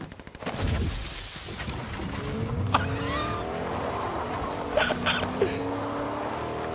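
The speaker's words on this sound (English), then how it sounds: "Put the bush on a car, drive around." A car drives around in a video game, its engine a steady, raspy drone that shifts pitch as it moves, with a few sharp game effects popping near the end.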